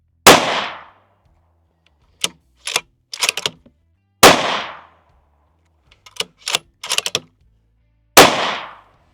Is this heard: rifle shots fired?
yes